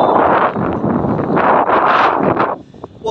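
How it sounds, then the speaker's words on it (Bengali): Strong gusting wind at the seashore near Dhanushkodi by Rameshwaram, with rough waves, buffeting the microphone in a loud continuous roar that swells and dips before easing near the end. "প্রচন্ড হাওয়া আছে, প্রচন্ড হাওয়া প্রেশার"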